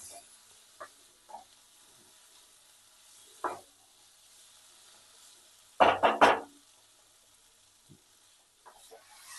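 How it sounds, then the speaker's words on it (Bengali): Cauliflower frying with spice paste in a pan gives a steady sizzle, broken by a few stirring scrapes and a louder burst of clattering and sizzling near the middle. No one speaks. "কপিগুলো মশলাটার মধ্যে দিয়ে দিচ্ছি, কপির সঙ্গে মশলাটাকেও আরেকবার একটু কষিয়ে নেব।"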